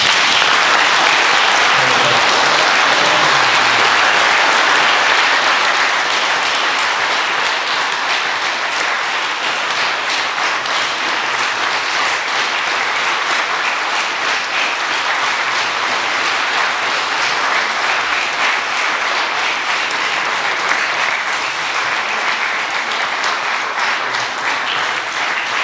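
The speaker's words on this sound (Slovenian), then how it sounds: "bi predlagal še en lep aplavz za naše gosti" A large cinema audience applauds the guests at a film premiere in Domžale, Slovenia, steadily for the whole stretch, a dense, sustained wash of clapping that eases only slightly toward the end.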